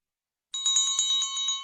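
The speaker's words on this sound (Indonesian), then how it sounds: "itu bunyi lonceng yang barusan bunyi." A bell rings after half a second of silence, its bright, sustained tones pulsing in a rapid, even series of strikes, loud and close with no voices.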